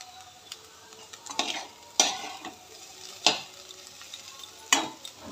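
Eggplant rubbed with turmeric and salt fries in a pan. A soft, continuous sizzle sits under sharp utensil clanks that come roughly every second or so.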